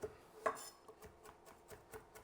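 Cilantro is chopped on a cutting board with a knife, giving a quiet, steady series of soft knocks, roughly one every fifth of a second, with no voice over them.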